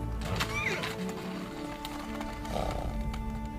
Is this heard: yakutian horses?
yes